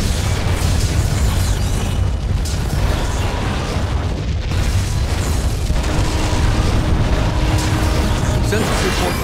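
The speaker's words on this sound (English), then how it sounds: "Klingon vessel destroyed." A Klingon vessel blows apart in the Star Trek: Legacy space combat game, a sustained loud, dense roar of booming explosion and rumbling debris that fills the whole stretch without letup.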